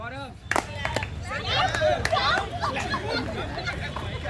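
A group of participants in a personality-development game activity claps hands together: several sharp, separate claps land amid lively chatter and voices in a room.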